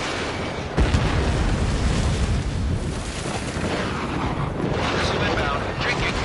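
A missile launch in Ace Combat 7 roars up as a loud, sustained rushing burst that carries through the whole stretch, with radio chatter from pilots layered over it.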